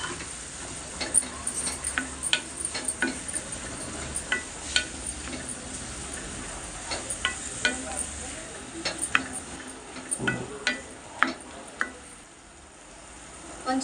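Ginger and garlic go into a pan of beerakaya (ridge gourd) mutton curry, giving soft stirring and light sizzling with scattered clicks of a spoon against the pan, all fairly quiet.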